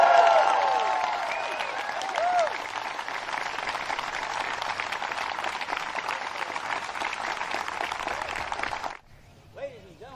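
Crowd applause for Natalie Ryan, champion of the 2022 Discraft Great Lakes Open disc golf event, as a steady dense clatter of clapping and cheering lasts about nine seconds before cutting off. A voice briefly follows.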